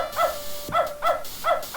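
A dog in the video game Beneath a Steel Sky barks four times in quick succession, sharp and close, with short gaps between the barks and no talking.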